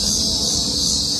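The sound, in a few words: crickets chirping in a tree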